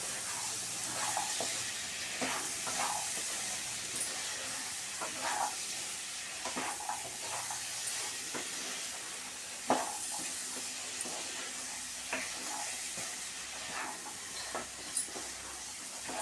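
Chickpea curry being stirred in a frying pan, with soft repeated scraping strokes of a spoon over a quiet sizzle and faint hiss throughout, no voices.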